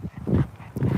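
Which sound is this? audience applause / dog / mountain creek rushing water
dog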